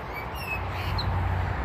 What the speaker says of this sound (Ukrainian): Пташечки он співають, он сидить.